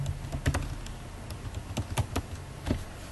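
Typing on a computer keyboard while working in MS PowerPoint: a close, irregular patter of key clicks with a few louder strikes, heard alone without talk.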